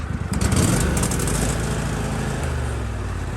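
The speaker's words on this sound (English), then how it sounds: "This one actually wants to idle at the lowest throttle setting." Kohler V-twin lawn mower engine fitted with an aftermarket carburetor, idling at its lowest throttle setting, a steady loud close low rumble that barely changes over the few seconds, with no talking.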